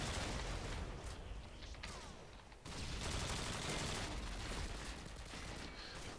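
Dense gunfire in the video game Modern Warfare 2, a continuous, loud rattle of bursts with a brief dip midway, with no talking over it.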